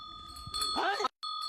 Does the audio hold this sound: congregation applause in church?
no